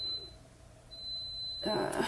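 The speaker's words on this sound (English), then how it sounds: "Do you guys hear my air fryer beeping?" An air fryer's thin, high electronic beep sounds twice in steady tones, the second long, followed by a burst of louder rustling noise at the end.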